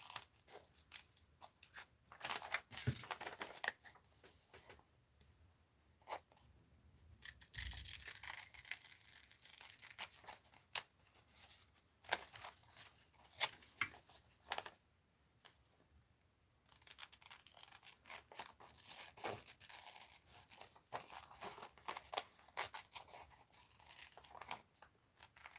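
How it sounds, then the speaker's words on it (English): Scissors cut paper along a drawn line at a mixed-media art journaling table. The snips, crinkles and rustles are faint, close and intermittent, separated by quiet gaps, with no talking. "Let's cut on the inside of this line."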